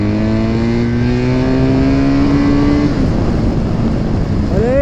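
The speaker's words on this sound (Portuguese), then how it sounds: "Pega uma arrancada ali pra vocês verem." A BMW car accelerates hard from a standstill, the engine note climbing steadily in pitch as it revs, loud and near, then breaking off into a rough roar before rising again.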